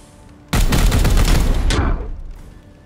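A loud, dense burst of rapid gunfire from Warhammer 40,000 Chaos Gate rattles for over a second, then cuts off and leaves a fading tail.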